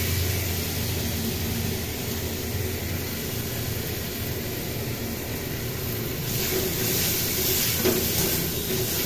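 Fish cutlet mixture with salt and turmeric fries in a pan, giving a continuous, even hiss and sizzle close by with no voices over it.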